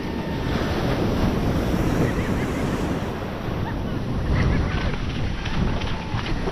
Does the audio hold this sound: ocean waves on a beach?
yes